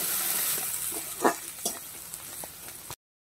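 Chopped onion with a slit green chili frying in hot oil, a constant close sizzle broken by a few clacks of a spatula stirring in the pan, ending abruptly.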